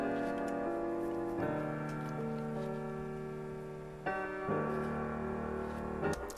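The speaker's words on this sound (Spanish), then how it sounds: "Voy entonces a apagar el plugin por un momento y escuchamos el piano original" Plain piano track with light reverb, sustained chords changing every couple of seconds, soft and even with a gentle ringing tail.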